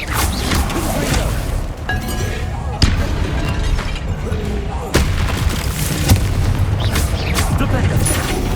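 A Confringo fire spell explodes in the Hogwarts Legacy video game, sharp booming blasts at irregular intervals over a busy combat soundscape, with a player speaking through it.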